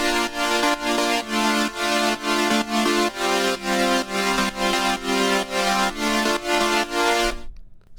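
Electronic music drop chords pulse in a steady rhythmic pattern, dense sustained synth chords pumping on each beat with a heavy low end, loud and continuous before cutting off abruptly near the end.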